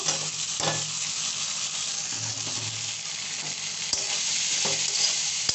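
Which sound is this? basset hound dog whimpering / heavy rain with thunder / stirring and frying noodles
stirring and frying noodles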